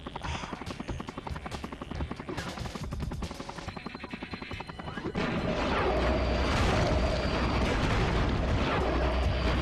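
A boss in the video game I-Ninja fires a barrage of rockets, rapid mechanical rattling and repeated impacts building into a heavy continuous roar of explosions, loud and close.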